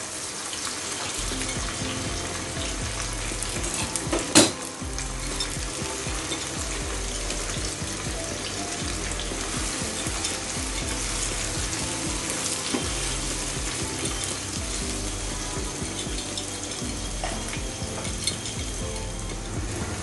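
Okra sizzles in hot oil without a break, a dense, steady crackle with one sharp clink partway through and no talking.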